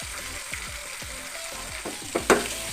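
A spiced curry base fries in a pan, its sizzle steady and close, with repeated quick stirring strokes and one sharper clatter near the end.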